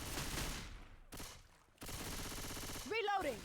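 Sustained gunfire from a Left 4 Dead style competitive match, a steady dense rattle of shots filling the clip with a brief lull partway, mixed with game effects and a voice-like cry near the end.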